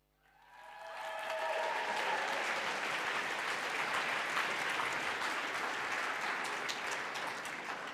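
An audience at an opening ceremony for the Sea Summit and UWC Adriatic bursts into applause, swelling quickly from quiet into a loud, sustained wash of many hands clapping that holds steady to the end.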